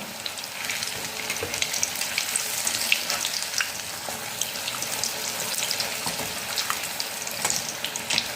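Alu vadi, colocasia leaf rolls, fry in hot oil, a dense continuous sizzle with scattered crackles and pops, steady and close throughout.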